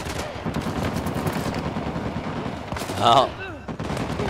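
Bursts of gunfire in Uncharted: The Lost Legacy crackle steadily under a man's excited chatter, sharpening into a louder volley briefly before easing off.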